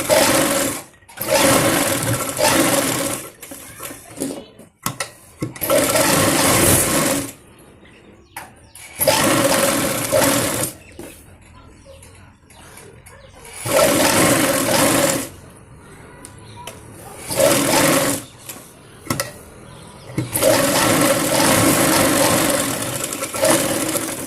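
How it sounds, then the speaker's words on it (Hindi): Electric sewing machine stitching a small girl's palazzo trouser, running in several loud bursts of a few seconds each, separated by quiet pauses with faint handling noise. "अब हम इस पर आसपास इस तरीके से सिलाई लगा लेते हैं।"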